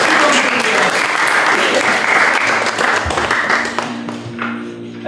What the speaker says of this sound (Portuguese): Já agora uma salva de palmas para a Sara.